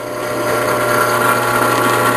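A made-in-China Craftsman drill press drills a steel shock bracket, with a steady, loud motor whine and hum that holds even for the whole stretch, and no voices.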